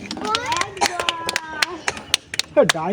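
An audience clapping at a village ball-rolling game, scattered sharp claps ringing out among a commentator's voice and other speech.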